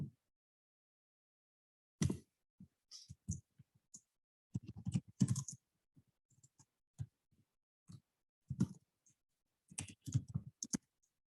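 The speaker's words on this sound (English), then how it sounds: "If I start typing on here" Fingers tap a computer keyboard in short, scattered bursts of clicks with quiet gaps between them. The keystrokes sound close and crisp in an otherwise silent room.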